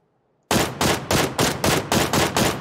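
Rapid burst of gunfire in the video game PUBG on the Sanhok map after a moment of silence, about eight loud, evenly spaced shots in quick succession, sharp and close.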